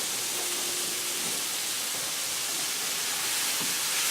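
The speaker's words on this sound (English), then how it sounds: "now the liquid is cooking out beautifully" Liquid cooking down in a pan on a stove gives a steady, even hiss of sizzling and bubbling, close and moderately loud, running alone with no talk over it.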